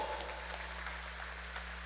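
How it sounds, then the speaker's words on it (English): Convocation crowd at a University of Guyana graduation ceremony applauding, a soft, distant patter of many hands over a low steady electrical hum. "a lusty round of applause"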